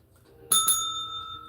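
A single bright bicycle-style bell rings twice in quick succession, close and clear, then its tone lingers and slowly fades during a gardening giveaway.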